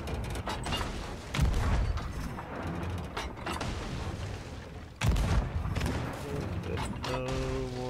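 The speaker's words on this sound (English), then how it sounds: "Cannon fire." Cannon fire during a fort raid in Sea of Thieves: two heavy booms a few seconds apart, each followed by creaking, mechanical rattling and crashing debris, with a faint tonal sound near the end.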